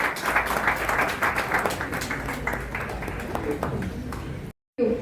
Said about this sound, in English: a big round of applause to Siddharth